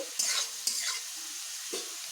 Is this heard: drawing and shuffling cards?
no